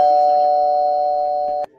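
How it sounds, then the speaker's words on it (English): A doorbell rings with a steady, sustained electronic chime tone, loud and close, ending abruptly with a brief click. "Doorbell."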